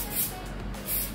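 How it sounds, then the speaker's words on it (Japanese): Two short hairspray bursts applied to a finished short bob, each a soft airy hiss spaced about 0.8 seconds apart, close and fairly quiet with no talking. "最終的にスプレーで毛羽立ちを抑えていきます。"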